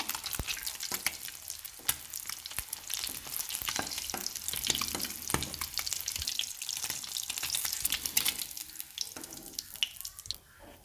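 Eggs fry in hot oil in a pan, giving a continuous close, crackling sizzle with sharp pops and spatters throughout, no voices.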